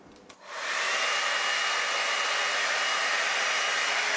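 A Babyliss Hydro Fusion 4-in-1 hot air brush switches on after a brief pause and blows a steady, close, airy whoosh that holds evenly to the end.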